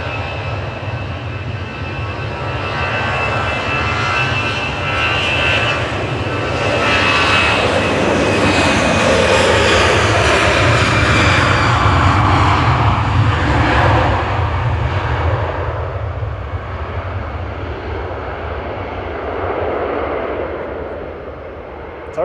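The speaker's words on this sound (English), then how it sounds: "We got an A320 Classic going next" An EasyJet Airbus A320 Classic jet roars through its takeoff at an airport, the engine noise loud and sustained, swelling to a peak midway and then slowly fading as it climbs away.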